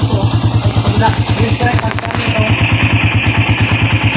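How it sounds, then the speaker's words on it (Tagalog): A quiet motorcycle engine, an R150 with an engine ticking fault now fixed, runs steadily at idle with a low, even rhythmic putter, close by, and a voice is heard briefly over it. "Tahimik ang makina mga bossing oh"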